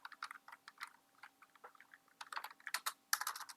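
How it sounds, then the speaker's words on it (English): Quick, uneven clicks of fingers typing on a computer keyboard, close and fairly quiet, coming in short bursts with brief pauses and a denser flurry near the end. "I'm typing on here"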